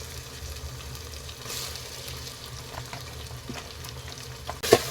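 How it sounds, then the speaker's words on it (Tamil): Chopped tomatoes sautéing in a pan for egg biryani, a soft steady sizzle with faint stirring scrapes throughout, ending in a louder clatter. "தக்காளி நல்லா சாஃப்டாகிற வரைக்கும் நல்லா வதக்கிக்கலாங்க"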